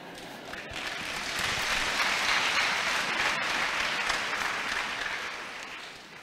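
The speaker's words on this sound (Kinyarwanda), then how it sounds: "Sinzi icyo mukomeye amashyi." An audience at a church sermon breaks into sustained clapping, swelling to a dense, even wash of applause and then easing off slightly, with no speech over it.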